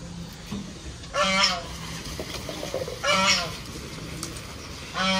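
Chickens and ducks in a backyard pen give short honking, clucking calls in a few separate bursts over a steady low outdoor background, with no talk heard.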